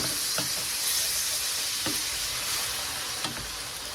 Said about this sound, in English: we're going to deglaze that pan with the port